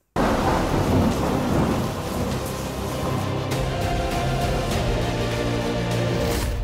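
Heavy rain pours down at a landslide site near Shirur in Karwar, with deep thunder rolling loudly through the opening seconds under a continuous, dense roar of rainfall.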